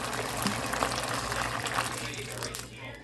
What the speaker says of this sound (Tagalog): At ngayon, lalagyan na natin siya ng tubig.